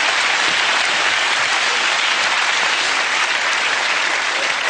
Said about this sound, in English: Let's have a big, big round of applause for Tracy.